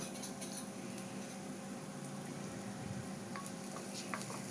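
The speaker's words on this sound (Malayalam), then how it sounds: "ഇനി നല്ലതുപോലെ വഴറ്റിക്കൊടുത്ത് ഉള്ളി നല്ല ഗോൾഡൻ ബ്രൗൺ നിറമാവുന്നത് വരെ ഫ്രൈ ചെയ്യാം" Onion, dried red chillies and curry leaves fry in hot oil in a pan, a steady close sizzle with faint crackles and occasional light stirring.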